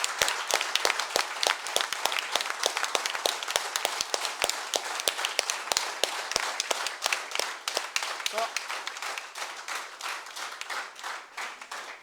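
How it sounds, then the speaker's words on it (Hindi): Audience applause welcoming a guest at a school yoga workshop in India: a crowd of hands clapping steadily and fairly close, sharp individual claps standing out, gradually thinning toward the end. "जोरदार तालियों के साथ स्वागत करेंगे"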